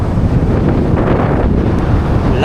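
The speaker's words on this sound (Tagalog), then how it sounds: "Lakas ng hangin." Strong wind at a beach buffets the microphone in a constant, loud roar, with the wash of surf from large waves faintly underneath.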